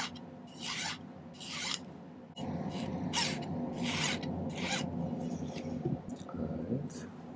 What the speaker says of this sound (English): I'm going to file the ends flat, or at least pretty flat.